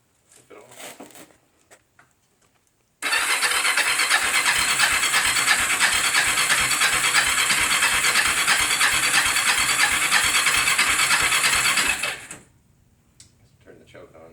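Kawasaki Bayou 300 ATV, a cheap fixer-up, cranks and catches, its engine running loud and close with a steady rattly drone for about nine seconds before cutting off, with brief talk before and after.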